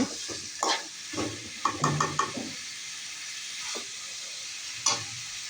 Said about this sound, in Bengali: মুরগির গিলা কলিজাগুলো এখন মশলার সাথে ভালো মতো কষাই নিব।